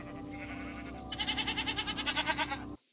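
Goat in Minecraft gives a rapid, wavering bleat that rises in pitch toward the end, loud and close over a steady background tone, then cuts off abruptly.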